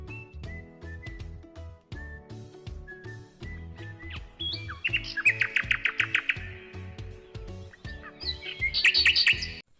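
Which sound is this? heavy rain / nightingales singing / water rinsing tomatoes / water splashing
nightingales singing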